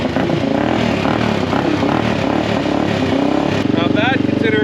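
A big bore supermoto motorcycle engine, left sitting for months, running steadily up close with a dense broadband rumble, shifting pitch near the end as the revs change.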